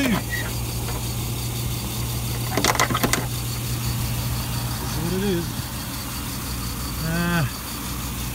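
An original 3.5-liter V8 car engine idles with a steady, low, even hum that continues throughout while people talk over it.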